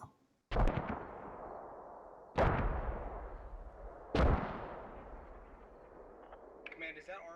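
Three heavy mortar blasts from Arma: Operation Arrowhead, each a loud, sharp boom with a long rumbling decay, spaced about two seconds apart. A faint voice comes in at the end.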